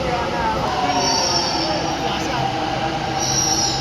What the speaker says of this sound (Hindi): जैसी मेट्रो यहाँ पर रुक रही है